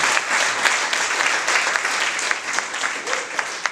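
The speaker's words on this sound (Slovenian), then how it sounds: "En aplavz." Applause from the gathering at an Interact club charter event in Ljubljana, a brisk wash of clapping hands that holds steady for a few seconds.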